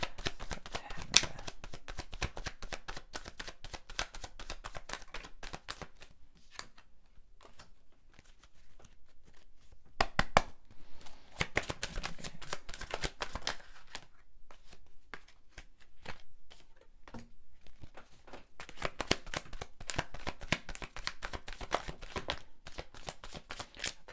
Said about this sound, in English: watching me shuffle cards